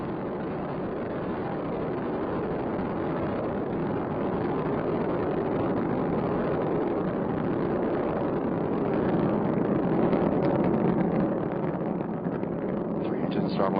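The three main engines of Space Shuttle Endeavour roar at launch, a steady, thick, muffled rumble that slowly builds in intensity, with a voice talking over it throughout.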